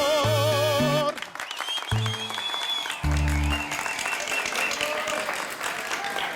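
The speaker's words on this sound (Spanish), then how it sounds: "¡Fuerte el aplauso!" Audience applause erupts at a concert as the band's music cuts off, a dense, sustained wash of clapping broken by brief loud band chords, with crowd voices mixed in.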